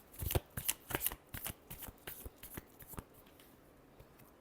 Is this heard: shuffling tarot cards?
yes